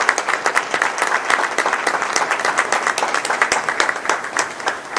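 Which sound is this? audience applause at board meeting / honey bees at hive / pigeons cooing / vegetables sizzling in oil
audience applause at board meeting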